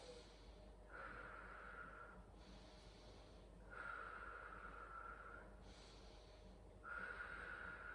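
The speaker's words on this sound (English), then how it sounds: "So you would breathe." Slow, steady breaths during an abdominal brace exercise in pregnancy, three long exhale-like swells about three seconds apart over a soft, continuous background hiss, close and fairly quiet.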